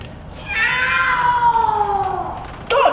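A single long, drawn-out cat meow with a falling pitch, fairly close and clear, with a brief rustle right at the end and no talk.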